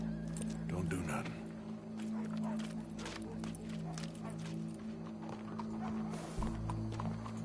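Horse hooves clip-clop steadily through a Red Dead Redemption II game scene, with an occasional whinny, layered under a constant low musical drone and character dialogue.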